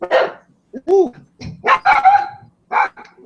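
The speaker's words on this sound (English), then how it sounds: "Sorry about the dog." A dog barks several times in short, sharp bursts, with a yip and a whining tone among them, fairly close, while a person speaks briefly in between.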